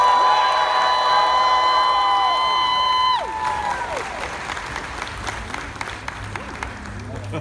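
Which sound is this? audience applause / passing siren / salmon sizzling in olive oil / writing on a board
audience applause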